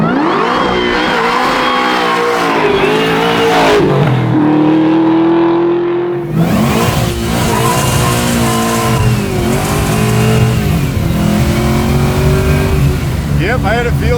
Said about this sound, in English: I'm really enjoying driving this car